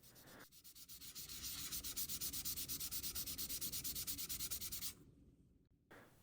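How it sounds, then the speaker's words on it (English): 1000 grit sandpaper rubbing putty on a plastic model car kit, a close rhythmic scratchy sanding with regular back-and-forth strokes for several seconds, then stopping. "the putty can be sanded smooth, and then some 1000 grit sandpaper can be used to even up the surfaces"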